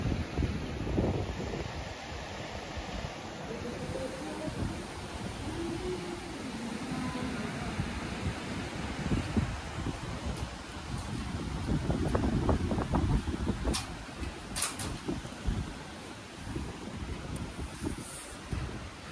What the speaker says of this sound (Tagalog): Ito yung dagat. Napakaganda. Napakalalaki ng alon.